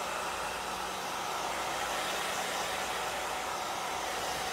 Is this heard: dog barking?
no